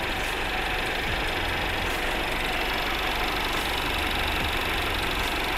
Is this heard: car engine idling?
yes